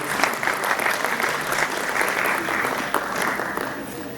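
Wedding guests clap steadily and cheer at a church-style wedding blessing, sustained dense applause from a close crowd throughout.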